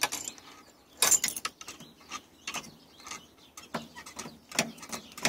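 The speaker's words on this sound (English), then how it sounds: "You can hear the solenoid and the carburetor coming on." Solenoid and carburetor on a Kubota machine clicking and ticking in a string of short mechanical clicks, with a couple of louder bursts, fairly close and with no talking.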